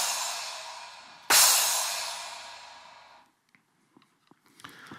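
A Yamaha DTX electronic drum kit plays a China cymbal layered with a 9-inch splash, one bright crash that rings and slowly decays over about two seconds, followed by a few faint soft taps.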